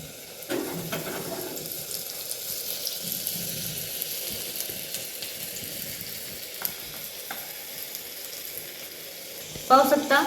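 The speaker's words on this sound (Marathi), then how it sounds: "त्यात आपण बारीक वाटलेलं लसूण टाकून घ्यायचंय." Finely crushed garlic sizzles in hot oil in a pan, a soft, continuous frying hiss with occasional stirring scrapes, fairly quiet throughout.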